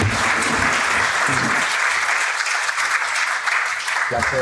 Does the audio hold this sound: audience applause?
yes